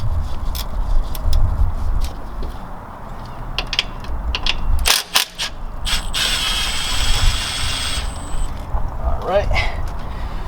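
A 12mm wrench or socket ratcheting out the sway bar bracket bolts on a Lexus GX470, rapid close clicking bursts with brief pauses and metallic clunks, someone talking over the work.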